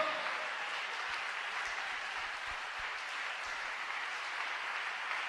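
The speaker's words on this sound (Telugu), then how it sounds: "కాస్త బిగ్గరగా మరి కాస్త బిగ్గరగా చప్పట్లు కొట్టి దేవుని నామాన్ని కనపడుతాం" Sustained applause from a church congregation during worship, many people clapping together in a thick, even roar that keeps going without pause or talk.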